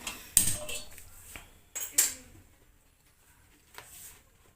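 A wok is set on a stove for frying pitha, with a few separate metallic clanks and knocks from the pan and utensils, close and moderately loud, with quiet gaps between.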